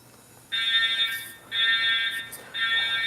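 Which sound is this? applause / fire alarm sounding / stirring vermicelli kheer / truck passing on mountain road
fire alarm sounding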